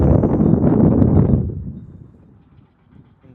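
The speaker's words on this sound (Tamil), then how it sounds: "காற்று எப்படி அடிக்குது பார்த்தீங்களா" A burst of wind in Saudi Arabia rumbles loudly against the microphone, then quickly fades to near quiet.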